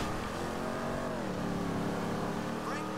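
Car engine in GTA 5 Online, a steady droning rev with harmonic whine and a pitch dip midway, heard continuously and fairly loud throughout.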